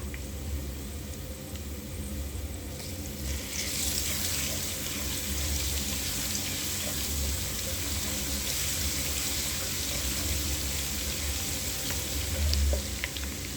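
Ginger garlic paste sizzling in ghee with browned onions, a continuous close frying hiss that swells a little as the paste hits the pan, steady throughout with no talk.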